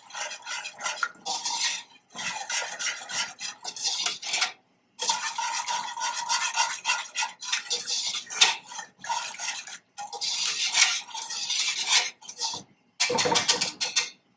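Whisk stirring nut butter into coconut milk in a pot for a chickpea curry, a steady scraping and clinking of metal against the pan in repeated bursts with brief pauses, close and fairly loud, no talking.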